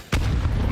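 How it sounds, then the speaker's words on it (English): A frag grenade goes off in a Counter-Strike match: one sharp, loud blast after a brief quiet moment, followed by a low rumbling tail that carries on to the end. "Here goes the nade."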